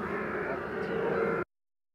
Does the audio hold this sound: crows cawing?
yes